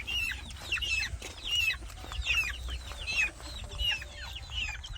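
Pet chickens on a provincial farm cluck busily while being fed, their overlapping calls close and continuous over steady low background noise, with no talking.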